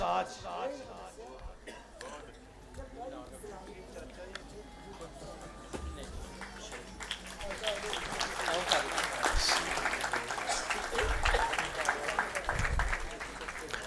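A church congregation at a thanksgiving first Holy Mass applauds during a gift presentation to a priest. The clapping starts faint under a speaking voice and swells into fuller, louder applause toward the end.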